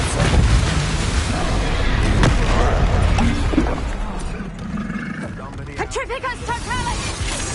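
Hogwarts Legacy battle with a Confringo blasting spell, dense roaring bursts and booms layered with combat effects, fading into scattered creature-like cries near the end.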